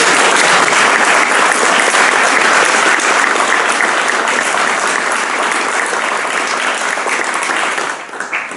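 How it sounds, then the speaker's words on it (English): Audience at a visualization conference gives a sustained round of applause for the speakers, dense clapping filling the room at full strength before thinning out at the end. "one last round of applause for all of our speakers"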